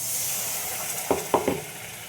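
Water poured into a pan of hot oil and masala, a steady hiss swelling into a couple of short, sharp bursts of sizzling and spattering, close and without talk.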